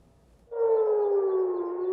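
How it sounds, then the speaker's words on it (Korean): An air raid siren during an attack in the Middle East sounds after a half-second of quiet, then wails with a steady, loud tone that slowly drifts downward and holds to the end. "공습을 알리는 사이렌이 울리고"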